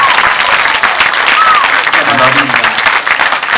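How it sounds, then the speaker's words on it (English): Live Q&A audience gives a round of applause for Friday the 13th director Tom McLoughlin, loud and close clapping from a crowd with voices talking over it throughout. "Give a round of applause to Tom again."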